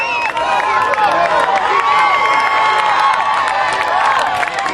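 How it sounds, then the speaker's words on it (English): A wrestling crowd cheers and shouts loudly and without a break through the whole stretch, with a few claps scattered through the din. "Ruthless has got this crowd pumped."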